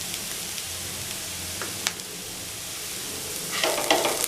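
Onions and salt stirred in a hot pan for leftover chapathi upma, a dense, loud, continuous sizzle with a few clinks of a spoon and a burst of scraping stirring near the end.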